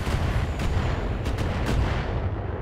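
Heavy weapons fire in the mech combat game BattleTech, with dense booming blasts and rumbling impacts rolling together into a loud continuous barrage, with no talking.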